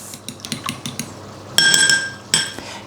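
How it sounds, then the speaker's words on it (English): A fork rattles and clinks against a small bowl while two eggs are whisked, a quick run of light taps followed by two brighter ringing clinks, close and alone without speech. "I get 2 eggs and put them in a little bowl and just whisk them with a fork"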